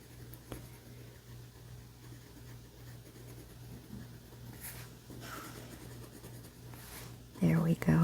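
Marker or pencil scratches softly and steadily across paper while lettuce on a sandwich drawing is colored in, a faint continuous rubbing under a low background hum, followed by a brief louder burst at the end.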